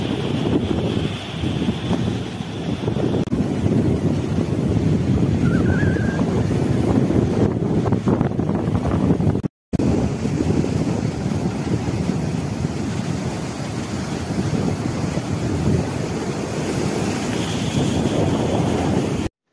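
Rough surf rolls in at high tide on Kanaichatta beach, a steady loud wash of breaking waves with constant wind buffeting the microphone, continuing without pause and no voices.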